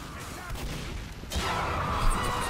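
SMG gunfire in Team Fortress 2, heard as a dense, continuous spray of rapid shots that grows louder partway through and stays loud amid busy game noise.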